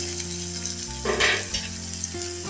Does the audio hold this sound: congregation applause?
no